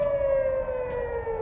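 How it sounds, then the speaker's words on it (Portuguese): An air raid siren in Israel during an incoming missile and drone attack, one long sustained wailing tone that holds steady and slowly falls, carrying loud and unbroken with no voices. "sirenes soaram à medida que os mísseis e drones se aproximavam"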